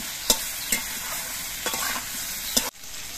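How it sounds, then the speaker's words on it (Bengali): Potatoes and eggplant fry together in a pan, with a continuous close sizzle broken by several sharp spatula clicks and stirring scrapes, ending in a sudden drop, with no voices. "এবার এই আলু আর বেগুন সবগুলো একসঙ্গে কিছুক্ষণ ভেজে নিতে হবে।"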